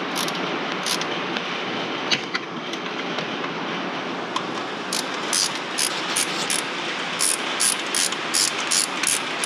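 Torque wrench ratcheting while tightening the fuel injector bolts on a 2.3 Ecoboost engine, a steady mechanical whir joined later by quick repeated clicking bursts, close and fairly loud.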